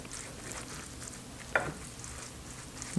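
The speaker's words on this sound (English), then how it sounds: "we stir everything together in the casserole dish" Ingredients for a spaghetti squash casserole are stirred together in the casserole dish: a soft, steady scraping under a low background hiss, with one brief louder clink midway and another near the end.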